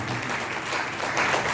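A crowd at an Arya Samaj devotional bhajan gathering claps together, a brief dense burst of applause that stays steady and fairly loud throughout.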